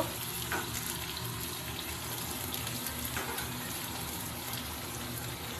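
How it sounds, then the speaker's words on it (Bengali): Onions and potatoes fry in a pan for a rohu fish curry, giving a faint, continuous sizzle and hiss that stays even throughout, with no talk over it. "পেঁয়াজ আলু দুটোই একটু হালকা করে ভেজে নিতে হবে।"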